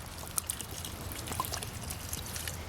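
Water trickling and soaking into soil during an outdoor infiltration test, a faint, steady dribble with small scattered drips, heard alone at low level.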